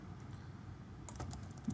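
A short, quiet burst of keystrokes on a computer keyboard as a command is typed during a custom Linux kernel build; the clicks are close and quicken toward the end, with no speech.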